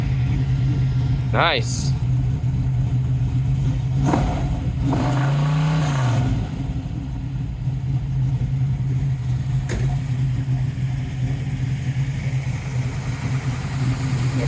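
A 1978 Nova with a 406 V8 roller engine and solid lifters cranks, catches and settles into a loud, lumpy idle, with a brief rev rising early on and a few people talking nearby.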